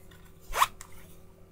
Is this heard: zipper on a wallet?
yes